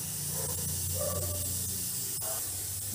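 Whole cloves and a little cinnamon stick dropped into hot oil give off a steady, close sizzling hiss that runs without a break, with a few faint crackles and no talk.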